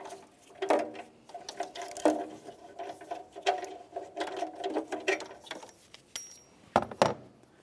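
A socket wrench works a bolt on the exhaust manifold of a 2012-2018 Nissan Altima, giving irregular bursts of ratcheting clicks and metallic rattles close by, with short pauses between turns.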